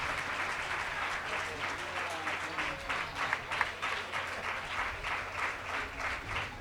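An audience at a devotional dhadhi leela gathering claps continuously and fairly loudly in a dense, steady patter that lasts throughout, with voices faintly underneath.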